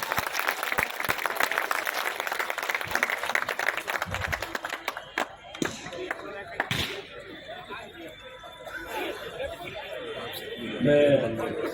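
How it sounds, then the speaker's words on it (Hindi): Hearty applause welcoming guest Om Prakash Dhankhar at a community gathering, a crowd clapping with scattered sharp claps, chatter and laughter, and someone speaking over the noise. "बाबूजी आए तो एक बार जोरदार ताली से स्वागत कर सकते हैं"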